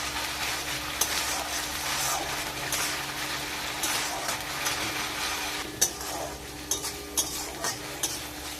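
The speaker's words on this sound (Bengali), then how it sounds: "এই মশলাটাকে ভালো করে কষে নিচ্ছি।" Spice paste (masala) is stir-fried in a home cooking pan, giving a steady close sizzle with scraping and clinking from the stirring utensil, heard alone without talk.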